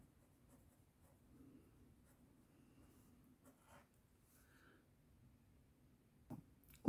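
A pen scratches out a math answer by hand on paper, with quiet intermittent strokes in a silent room, followed by a short sharp knock at the end.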